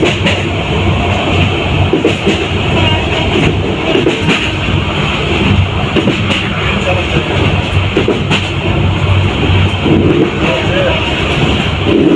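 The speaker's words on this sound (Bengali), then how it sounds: "কিছুক্ষণের মধ্যেই ট্রেন চলে আসবে তখন আমরা ট্রেনে উঠবো" A loud, steady rumble of a train with rhythmic rattling, running continuously throughout, with voices faintly mixed in.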